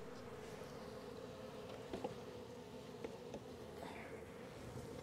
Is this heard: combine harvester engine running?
no